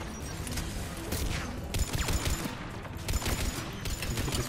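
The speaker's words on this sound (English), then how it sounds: "Oh, that's a turret." Turret firing in Mass Effect 3, rapid repeated gunfire bursts crackling amid battle noise, several sharp volleys spread across the moment, moderately loud with no talking.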